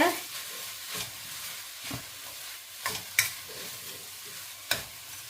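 A spoon stirs a beetroot stir-fry in a pan, giving a soft sizzle with periodic scraping strokes about once a second, close and fairly quiet, with no talking.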